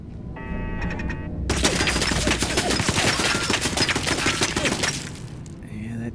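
A turret in Fallout 4 opens fire in a long, dense burst of rapid shots lasting several seconds. The shots are loud and crackling, layered over game ambience, with a brief tonal game sound just before.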